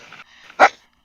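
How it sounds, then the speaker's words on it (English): A single sharp bark from a dog indoors, loud and close, preceded by faint whining or breathy vocal sounds. "No, that's my dog."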